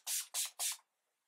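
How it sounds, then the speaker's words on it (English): Three quick, close hissing bursts of setting spray mist onto a face, evenly spaced and then silence. "Spray my entire face"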